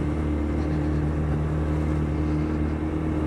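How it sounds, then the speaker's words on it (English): A car engine is held in first gear while driving, giving a loud, steady drone with strong low harmonics that holds at high revs throughout, with no talking over it. "See if we can do the whole journey home in first gear, shall we?"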